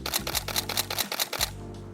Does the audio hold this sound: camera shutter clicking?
yes